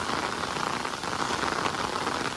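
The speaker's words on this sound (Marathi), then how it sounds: "सकाळपासून असाच पाऊस पडतोय कंटिन्यू पाऊस कंटिन्यू पाऊस" Heavy, continuous monsoon rain pours down in coastal Konkan, a dense, unbroken hiss of drops drumming on surfaces, loud and close with no voices.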